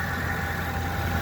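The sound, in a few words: 2013 Ford Econoline van engine idling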